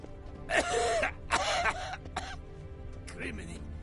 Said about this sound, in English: Criminy, a worrying cough.